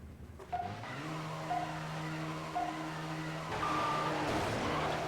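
A Pagani supercar, the fastest vehicle in a racing video game, drives with a steady droning engine note, its tires squealing in repeated short skids before the engine surges louder and rises in pitch near the end.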